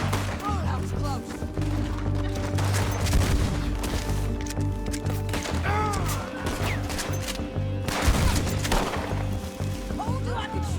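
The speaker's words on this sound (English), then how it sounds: "Told you I could shoot a gun" Gunfire in the video game Red Dead Redemption 2 cracks out in repeated loud shots and bursts over a dense, low, rumbling game soundtrack, with sharp transients scattered throughout.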